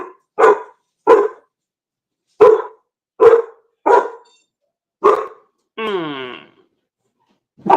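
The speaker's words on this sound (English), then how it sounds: "What is he barking at?" A single dog barks in short separate bursts, about seven sharp barks spaced irregularly, plus one drawn-out whine or yelp, fairly close and loud in an otherwise quiet room.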